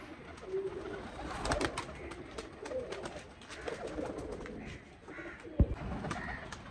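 Domestic home-bred pigeons coo softly and repeatedly, in low murmuring phrases mixed with light rustling and a faint background hum. There is no talking.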